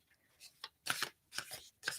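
Oracle cards are shuffled by hand in several quick bursts, soft papery riffles separated by brief pauses, close and clear with no talking.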